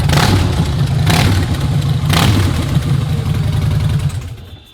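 A motorcycle with a modified, blasted exhaust roars loudly and steadily up close, with a few sharp revving surges in its throaty idle before it tapers off at the end.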